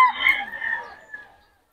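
A Sweater hatch gamefowl rooster crows once, loud and close, the call trailing off into silence.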